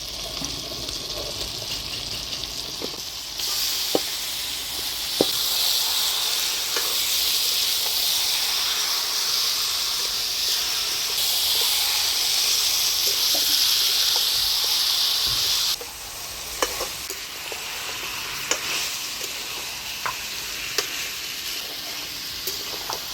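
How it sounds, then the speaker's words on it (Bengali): Marinated chicken hitting a pan of reddened onion and tomato gives a loud, steady hiss of sizzling that holds for a long stretch, then drops to a softer crackle with occasional spatters. "এবার মাখায় রাখা মাংস দিয়ে দিই।"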